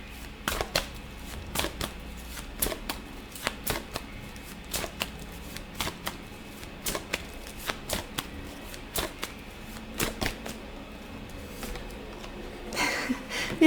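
Tarot cards being shuffled up close, a long series of crisp riffling and slapping bursts in an irregular rhythm, with no talk.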